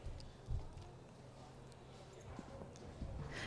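Horse hooves on a dressage arena surface during an Inter I CDI test, ridden by Lucy Burt on Concordance; soft, faint footfalls thud irregularly beneath a steady wash of background noise.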